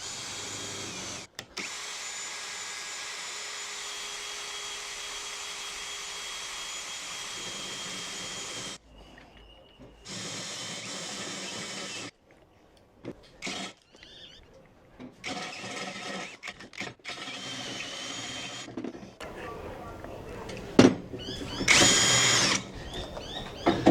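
Kincrome battery drill boring through material with a large 30 mm bit, a steady whining drone that runs in long stretches, cuts out in short gaps and restarts, with a louder rising burst near the end.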